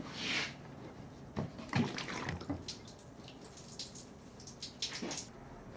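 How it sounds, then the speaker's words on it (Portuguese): Water running out of the lower hole punched in a bottle during a homemade automatic-waterer experiment, a soft trickling splash with a few brief gurgling bursts, fairly faint and without talk. "Só sai água pelo furo de baixo."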